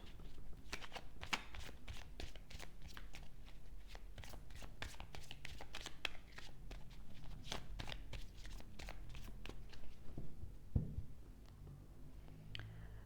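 Energy oracle cards shuffled by hand, a steady run of quick riffling flicks up close with a softer pause near the end and no talking.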